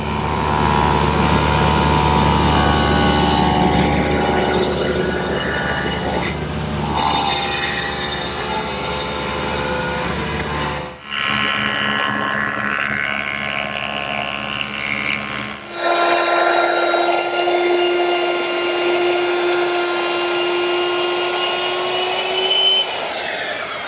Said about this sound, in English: I'll do that at the table saw.